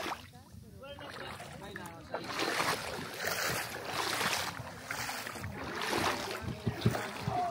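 A boat moves on the sea toward a larger boat off Siargao, with water splashing and a steady rushing wash, while people talk over it.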